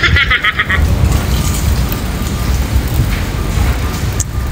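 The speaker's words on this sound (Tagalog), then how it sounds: "Grabe ang lakas ng ulan" Heavy rain pours steadily on an evening walk home in Japan, a dense even hiss of drops filling the whole scene, with a faint whine of passing traffic mixed in and no one talking.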